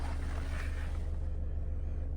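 A Skoda Octavia Style 2.0 TDI diesel engine idles at a steady, smooth, low rumble with an even drone and no knocks or changes in pace.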